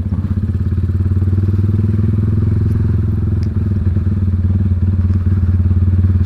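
A modified Honda Tiger motorcycle engine drones loud and close with a fast, steady pulsing beat, holding its revs with little change throughout.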